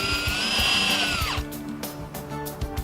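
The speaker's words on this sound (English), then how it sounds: "use the self-tap screws and screw it in place" A power drill drives self-tapping screws into a pole mount, its motor whining steadily and loudly before winding down, followed by a few light knocks and taps close by.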